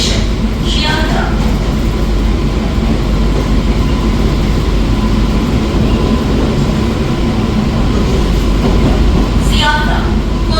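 A local train bound for Sealdah rumbles steadily throughout with a constant low roar, brief high squeals near the start and end, and people talking faintly over the noise.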